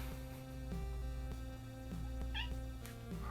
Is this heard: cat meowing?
yes